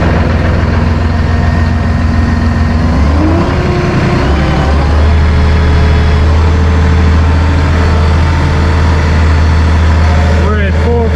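Tractor engine driving a Massey Ferguson RK802TRC Pro Series rotary rake revs up toward operating RPM, a loud, close, steady low diesel drone that climbs in pitch and then holds.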